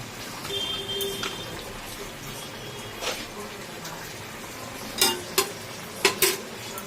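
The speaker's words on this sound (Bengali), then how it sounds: "একটুখানি নাড়াচাড়া করে নিয়ে জিরের কাঁচা গন্ধটা যাওয়া অবধি আমি এটা কষাবো" Cumin fries with asafoetida in a pan under a soft, constant sizzle, with a few sharp scrapes and clinks as a spoon stirs against the metal, close by and fairly quiet.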